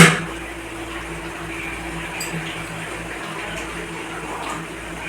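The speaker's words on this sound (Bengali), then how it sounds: "এদিকে আমাদের মাংস হয়ে গেছে, এবার জল দিয়ে দেবো, এদিকে জল বসিয়েছি।" Water pours into a pot of cooked meat, a steady soft splashing and running-water hiss that starts with a brief louder gush and carries on evenly.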